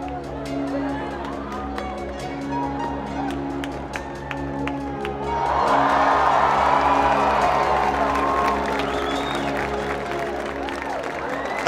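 A crowd applauds and cheers a contestant named Mike at a Father's Day fun event held by the TinCaps baseball team. Quieter background sound swells at mid-clip into loud clapping and whoops that carry on to the end.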